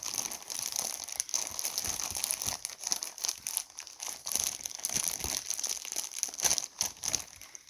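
A Ziploc zipper storage bag holding crystal beads is handled up close, giving continuous crinkling and rustling of thin plastic with irregular bursts, fairly quiet and with no voices.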